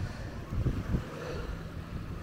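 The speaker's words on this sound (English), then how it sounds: "I'm going to step back and try and keep out the wind." Wind buffeting a microphone on a boat near Gili Trawangan, a low, rumbling gusty roar with a couple of stronger puffs, steady and close.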